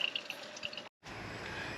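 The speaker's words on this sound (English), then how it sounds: "The tank is filling now and it's breathing right through here, letting the air out right here." Water runs into a hot water tank in a coach, a steady trickling hiss with small drips and gurgles, briefly cut off by a moment of silence before the flow resumes at an even level.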